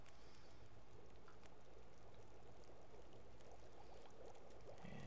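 A soft, steady trickling and pouring of water runs throughout as snow melts into water in The Long Dark video game, faint and continuous with no voices.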